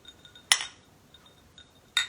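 Drinking glasses clink together in two sharp, bright strikes about a second and a half apart, each ringing briefly, with faint lighter taps between them.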